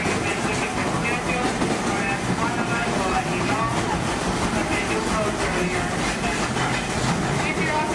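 A Walt Disney World railroad train rolls along with continuous rumbling and faint clickety-clack from the wheels, steady and fairly loud, with a voice speaking over the ride noise.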